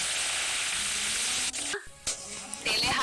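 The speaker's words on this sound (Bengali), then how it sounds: "গরম তেলে হাত দিলাম এখানে কিন্তু আপনার গরম তেলের মধ্যেই কিন্তু হাত দেওয়ার ভিডিও হয়ে যাবে" Hot oil sizzling steadily with a dense, close hiss, briefly interrupted by a sharp drop and a couple of short bursts before the fry noise returns at full strength.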